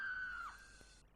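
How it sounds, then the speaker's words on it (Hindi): A woman's high, sustained scream rings out in a room in a horror story about a haunted doll, sliding slightly downward in pitch before cutting off after about a second, fairly faint with no talk. "उसके बाद कमरे से लू के भी चीखने की आवाज आई।"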